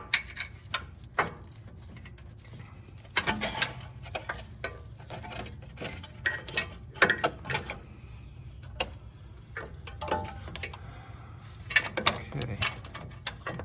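Ratchet with a 1/2 inch socket loosening wiring on the starter solenoid of a 1992 Mercedes-Benz 600SEL W140, heard as scattered short clicks and ticks in quick bursts, fairly close, with low background rumble and no talk.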